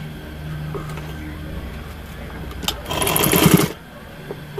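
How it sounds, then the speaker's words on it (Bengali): A sewing machine stitching a 1/4-inch elastic frill for a boy's baby pants, one short rapid whirring run of stitches lasting under a second, with quiet room noise before and after. "আমি 1/4 ইঞ্চি চওড়া করে রাবারের ফ্রিটা সেলাই করে নিচ্ছি।"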